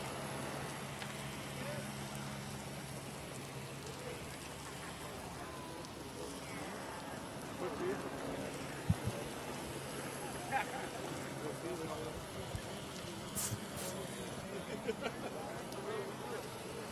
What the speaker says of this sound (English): The rain picking up here a little bit at Boeing Field